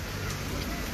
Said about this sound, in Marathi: छोट्याशा शॉपच्या वरून येणारं पाणी बघा किती जोरात पडतंय